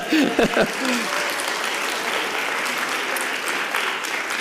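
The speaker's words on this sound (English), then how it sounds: "You can applaud." Applause rises from a speech-night audience after a balloon demonstration, opening under a brief spoken voice and then settling into a steady, even wash of clapping.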